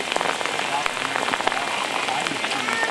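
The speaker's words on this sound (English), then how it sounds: "completely raining out here" Heavy rain pours outdoors on a film shoot at a dinosaur fossil dig, a dense, steady patter of drops close by, with faint talk underneath.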